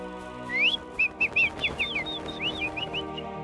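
Cartoon birds chirp and whistle in quick bright rising trills, several short bursts following one another clearly, with no speech over them.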